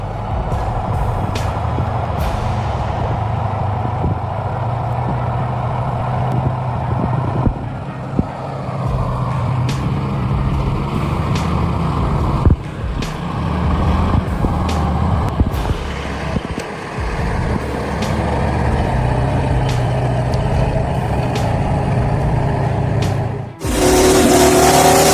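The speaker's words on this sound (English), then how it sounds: "A rugged off-road truck was struggling to climb the hill. Each turn of the wheels crunched into the hillside, creating deep ruts in the rocky ground. The engine roared" Heavy-loaded off-road timber truck climbing a rocky hill, engine droning and straining loudly up close with shifting load, knocks and clatters, then a sudden louder surge at the end.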